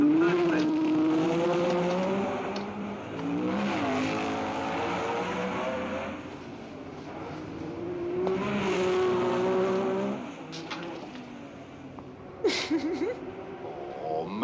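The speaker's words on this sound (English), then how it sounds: "Stoddard can't quite squeeze his BRM past Sarti's Ferrari. There's very little room to pass on these narrow Monte Carlo streets" Formula One race cars, a BRM and a Ferrari, scream through the narrow streets of Monte Carlo in a 1966 Grand Prix, engines rising and falling in pitch as they pass close, with a brief squeal near the end.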